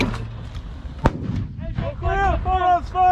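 A U.S. Army artillery round fired by 4-319 soldiers during the Dynamic Front exercise gives a single sharp, loud boom, surrounded by radio-style talk before and after.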